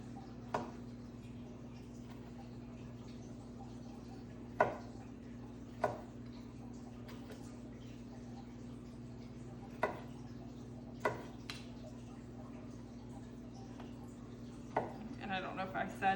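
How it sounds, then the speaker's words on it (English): Four tomatoes are chopped on a cutting board with a knife, sparse, sharp taps spaced several seconds apart over a steady background hum, fairly faint. "So chopping up 4 tomatoes."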